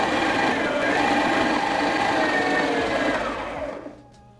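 A KitchenAid stand mixer creams butter on its highest setting, a loud, steady motor whir that holds for several seconds and then winds down as it is switched off.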